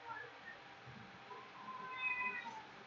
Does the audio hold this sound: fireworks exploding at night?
no